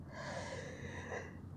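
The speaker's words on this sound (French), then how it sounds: "prenez une profonde inspiration suivie d'une profonde expiration" A slow, deep breath in followed by a long breath out during a guided relaxation, steady airy breathing sound lasting the whole moment with no talk.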